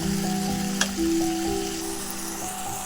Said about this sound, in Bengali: এখন আমি চিকেনগুলো দিয়ে একদম ফুল আছে চিকেনটাকে কষে নেব